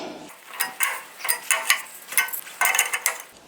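Copper pipe fittings are tightened with a wrench during pipe assembly, producing a run of close, sharp metallic clicks and ratcheting scrapes in irregular bursts, with no talking.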